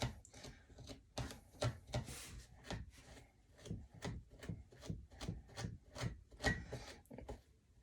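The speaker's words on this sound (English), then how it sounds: "So now I'm going to do the same thing here as far as comb out the ropes." Macrame ropes are combed out in steady repeated strokes, each a soft close scratchy rub, quiet and rhythmic with no talking.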